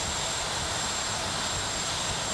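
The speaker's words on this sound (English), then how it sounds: "No, that's reverse thrust. Reverse thrust is on." Steady broadband roar of jet engines held in reverse thrust on a video game aircraft, a dense unbroken rush without voices over the full stretch.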